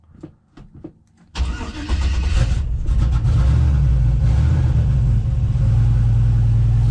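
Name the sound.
1974 Chevrolet C10 LS swap turbo engine cranking and starting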